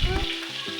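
Three small-cut catfish fry crisp in hot oil, giving a dense, steady sizzle close by for a brief moment.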